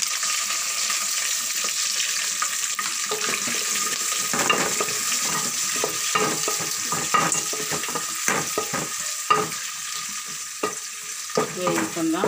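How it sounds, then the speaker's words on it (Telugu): Pieces sizzling steadily in hot oil in a pan while being fried for biryani, with a continuous hiss broken by frequent scraping and stirring knocks, close and fairly loud, with no talking. "ఇంకా ముక్కలు పచ్చడి ముక్కలు వేసుకుందాం"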